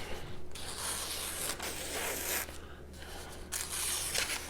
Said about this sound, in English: try the other knife on that paper